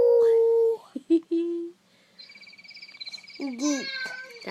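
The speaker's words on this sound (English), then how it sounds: "That's a cricket." A toy making animal sounds gives an electronic cricket chirp: a steady, pulsing high-pitched trill. It comes between other toy tones and electronic sound effects.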